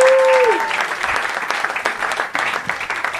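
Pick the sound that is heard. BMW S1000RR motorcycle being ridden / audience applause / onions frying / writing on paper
audience applause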